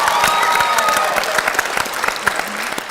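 A studio audience at a talk show claps steadily, a dense wash of many hands with a few sharper claps standing out, loud and sustained from start to finish.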